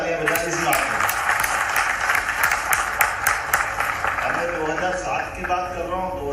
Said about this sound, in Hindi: जोरदार तालियां बजाएं इस बात में।